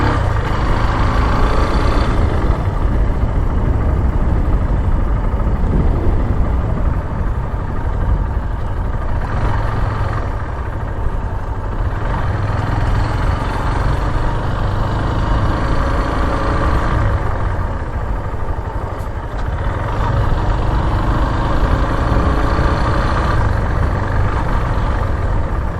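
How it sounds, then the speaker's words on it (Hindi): Cars and trucks idle and creep in congested traffic in Doha, Qatar, with turning vehicles giving a steady, loud engine rumble that swells slightly now and then, heard from close by. "क्यों गाड़ियाँ वहाँ आगे बंद है, इसलिए गाड़ियाँ वापस आ रही हैं"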